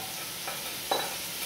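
Chopped carrot, celery and onion sizzle steadily in a hot pan, with a couple of brief scraping stirs of a utensil against the bottom cutting through the frying hiss.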